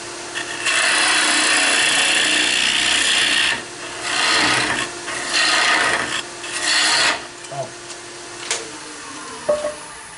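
Wood shavings rasp and scrape in long continuous passes as a lathe tool cuts into spinning end grain, then shorter bursts with pauses between.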